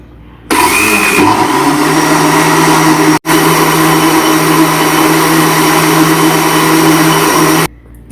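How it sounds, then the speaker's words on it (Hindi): A juicer machine whirs loudly, blending mint, lemon and sugar into juice, running steadily for about seven seconds with a brief cut partway through. "अब हम इस जूसर मशीन को"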